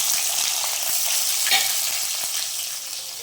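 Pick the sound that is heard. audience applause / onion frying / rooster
onion frying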